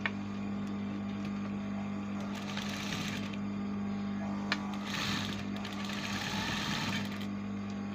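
A sewing machine stitches along a fabric edge, humming steadily up close with short bursts of rapid needle clatter between quieter pauses.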